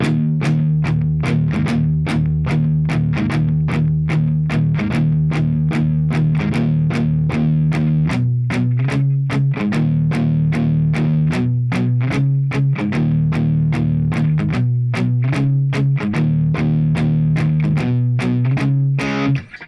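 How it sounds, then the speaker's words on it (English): Heavily distorted electric guitar plays a breakdown: loud, steady chugging open sixth-string power chords with rhythmic upbeat releases, shifting chord every few bars, close and alone with no talk. "we're into the breakdown, and the breakdown's gonna sound like this."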